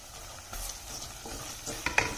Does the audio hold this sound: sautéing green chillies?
yes